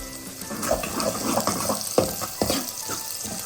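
Green chili, onion and garlic frying in a pan with dried red chili, giving a steady sizzling hiss broken by sharp crackles and pops, close and fairly loud.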